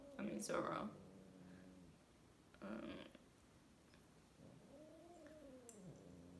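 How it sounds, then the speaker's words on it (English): A cat lets out a low, drawn-out growl at another cat that rises and falls, after two short bursts of hissing or yowling, all fairly quiet and close. "that's my cat growling at my other cat."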